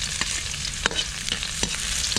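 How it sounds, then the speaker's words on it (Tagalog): Garlic sautés in hot oil in a pan: a bright, continuous sizzle with sharp crackles and pops every half second or so, close and unaccompanied by speech. "Ang gisa."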